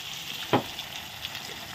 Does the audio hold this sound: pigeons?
no